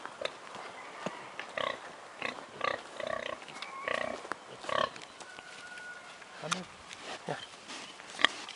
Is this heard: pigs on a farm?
yes